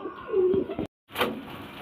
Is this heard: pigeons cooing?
yes